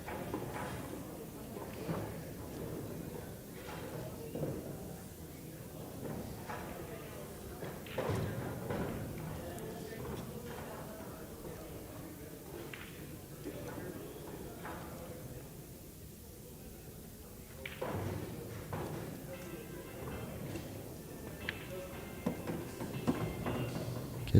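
Billiard balls knock together in an 8-ball pool match at a Texas championship tournament: a few sharp, fairly faint clicks and thuds rise over a steady murmur of the room and low voices.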